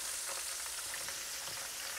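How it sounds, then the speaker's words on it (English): Cabbage frying in a pan gives a steady, close, bright sizzle with faint crackles, continuous and without talk. "You can hear it frying now."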